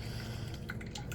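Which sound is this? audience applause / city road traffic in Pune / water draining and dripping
water draining and dripping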